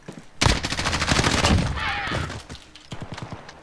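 Rapid gunfire bursts from the Modern Warfare video game, loud and close, a dense fusillade of shots in quick succession that tapers into a few scattered cracks.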